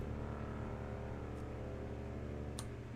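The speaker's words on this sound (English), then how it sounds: "So introducing this song is this pad." A stock Ableton synth pad, widened with a utility effect, plays a bass line as a dense, steady, sustained tone that holds at an even loudness throughout with no gaps.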